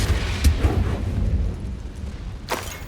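A Confringo blasting curse explodes in Hogwarts Legacy on PS5, a few heavy booming bursts up front followed by a rumbling tail and a sharp crackling pop near the end.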